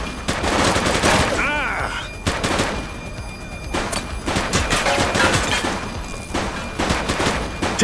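Gunfire rips through a police shootout in The Precinct, with repeated loud bursts and rapid volleys of shots close by, mixed with shouting voices throughout.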